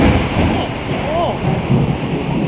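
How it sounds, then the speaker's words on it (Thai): Heavy rain pours steadily as deep thunder rumbles close by during a storm in Vientiane, loud and continuous. "อันเสียงฟ้าห้องนี่มันนักกว่าฝนนะ"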